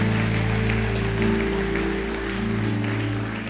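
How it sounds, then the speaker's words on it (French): A church congregation applauds during a French-language sermon, broad sustained clapping over a strong steady low hum from the sound system, loud and continuous throughout. "on applaudit le roi des rois"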